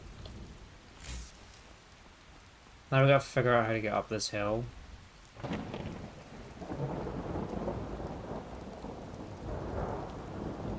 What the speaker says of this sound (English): I just wish the rain would stop.